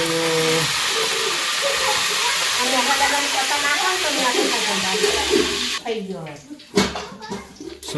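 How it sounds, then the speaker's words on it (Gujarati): Loud hissing sizzle fills the first part as spices are tempered in hot oil, with a voice talking over it, then the sizzle drops away into clatter. "મમ્મી વઘાર કરી નાખ્યો છે"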